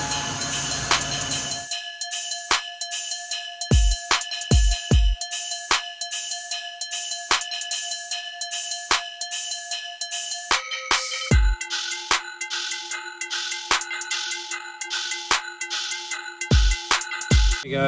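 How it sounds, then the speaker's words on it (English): A CNC mill drives a 4-inch face mill at 10,000 RPM through coolant, cutting a Jeep JK front steering knuckle. A steady high-pitched whine runs throughout, broken by occasional sharp thumps and a shift in pitch partway through. "we go with the 4-inch face mill"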